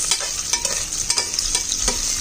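Chicken gizzard and liver adobo with ginger being stirred as it fries in a pan, a steady bright sizzle broken by repeated scraping strokes of the spoon, close and without talk.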